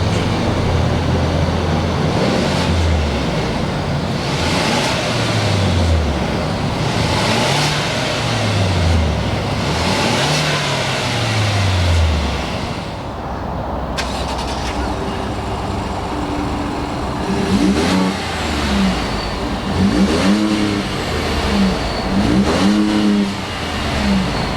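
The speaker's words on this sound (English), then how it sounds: "Let's go ahead and fire both of these Fords up." A 2019 Ford Ranger XLT and a Ford F-150 EcoBoost start and rev one after another, with repeated rising and falling engine sweeps, a brief lull midway, then more revving, loud and close with no talking.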